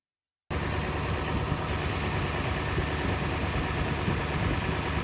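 A diesel Ford Bronco engine idles steadily up close, a constant low rumble with a faint high whine, starting abruptly after a brief silence and running evenly throughout.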